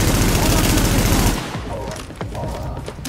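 Rapid automatic gunfire in the shooter video game Tom Clancy's The Division, a loud sustained burst that cuts off after about a second and a half, followed by quieter scattered game sounds and someone talking.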